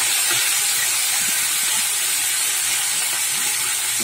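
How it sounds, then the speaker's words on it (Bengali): Ground spice paste hits hot oil in a pan already seasoned with cumin, dried chili and bay leaf, giving a continuous loud, bright sizzling hiss with no pauses. "ওই যে বাটা মশলাটা ওটা তেলের মধ্যে দিয়ে দিচ্ছি"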